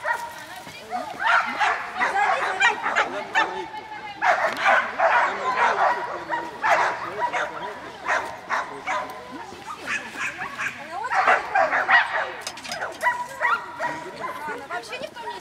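Varya the dog gives repeated yips and barks in short bursts, with whimpering between them, close by while people talk and praise her.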